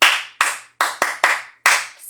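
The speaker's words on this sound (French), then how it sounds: "Applaudissez pour elle." Hand claps at a fashion university event, heard as six sharp, close, separate claps at irregular intervals, each dying away into near silence before the next, with no talk.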